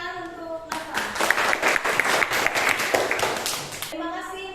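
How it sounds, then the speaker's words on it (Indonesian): Classroom applause for a student named Nafa after she sums up a chemistry lesson on acids and bases, a burst of clapping from many hands lasting a few seconds, with a voice speaking before and after. "tepuk tangan untuk Nafa"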